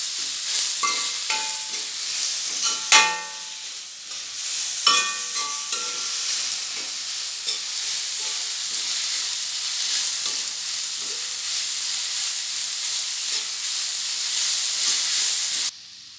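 Chicken filling for chicken ada sizzles and hisses steadily as it is sautéed in a pan, with a couple of sharp scrapes or clinks near the start and a continuous, fairly loud fry throughout without talk.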